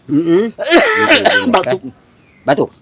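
A person coughs and clears their throat in a rough, voiced burst, followed by a short second cough after a pause; close and loud.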